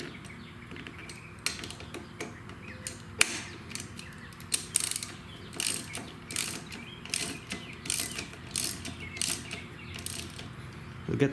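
Motorcycle handlebar bar-end grip bolt being screwed back in, likely with a ratchet, giving close, quiet, irregular clicking and ratcheting that grows busier and steadier over the span.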